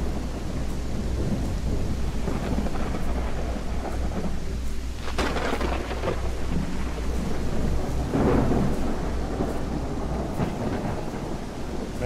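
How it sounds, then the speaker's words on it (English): Heavy thunderstorm in a first-person psychological horror video game, with steady rain and deep rolling thunder swelling twice, close and loud, with no voices. "Man, this is a big storm."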